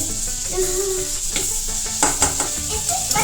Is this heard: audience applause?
no